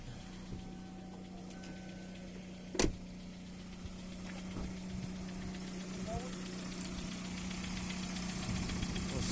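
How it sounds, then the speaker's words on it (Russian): A Hyundai Tucson or Kia Sportage engine idles steadily at close range, with a sharp knock or click near the start and faint background sounds throughout. "собственно, так работает мотор."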